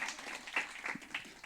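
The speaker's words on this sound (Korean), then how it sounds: "큰 박수로 환영하겠습니다" Brief applause in a church service welcoming a newlywed couple, a few scattered soft claps heard faintly at a distance rather than a full ovation.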